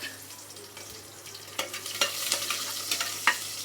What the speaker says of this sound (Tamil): பாருங்கள், வெங்காயம் நல்லா வதங்கிச்சு.